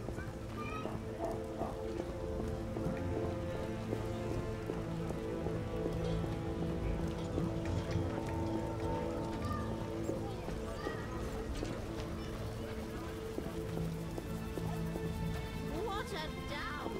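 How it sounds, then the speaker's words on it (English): Heavy rain pours down steadily in The Witcher video game, a constant dense hiss with horse hooves clip-clopping and voices talking over the downpour. "What a downpour!"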